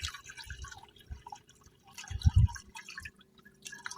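Water is poured into a pet rabbit's bowl, soft intermittent splashes and drips with a fuller pour in the middle, close and quiet, no talking.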